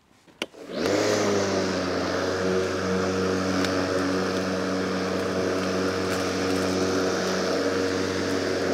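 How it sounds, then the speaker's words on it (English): A lawnmower starts with a brief pull and catch, then its engine settles into a loud, steady drone as it runs over grass, close by and continuous. "the lawnmower's sitting at 30 mil, so I'm going to raise the height of cut on it"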